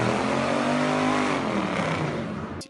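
A naturally aspirated 5.5-liter V8 in a Mercedes W211 E500 revs loudly and up close with a steady, throaty drone that holds for about two seconds and then falls away.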